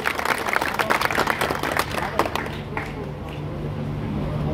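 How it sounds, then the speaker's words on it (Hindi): A crowd at a Haryana political election rally applauds, a dense wash of clapping that fades after a few seconds into a low hum of the open-air gathering. "एक बार जोरदार तालियां चाहूंगा भावी सांसद के"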